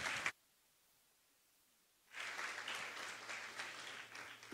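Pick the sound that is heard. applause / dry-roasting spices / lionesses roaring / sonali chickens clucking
applause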